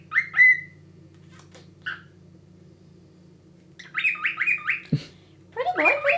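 A pet cockatiel gives short bright whistles and chirps in bursts, a clear call near the start, then a run of rapid repeated whistled notes later, with a quiet hum underneath.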